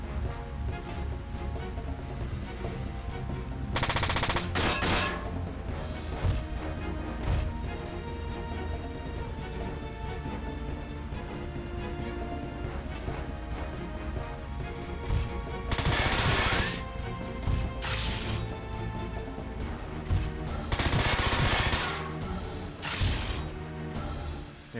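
Mech gunfire barrage in the strategy game Front Mission 4, a dense, loud, continuous roar of rapid shots with several heavier bursts and crashing impacts layered over a steady game soundtrack.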